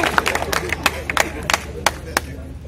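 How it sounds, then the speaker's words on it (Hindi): Sparse, scattered clapping from the crowd at an outdoor political rally for a by-election in Sanchi, Madhya Pradesh: a handful of distinct claps spread unevenly over a low murmur. "तालियां थोड़ी कम बजी।"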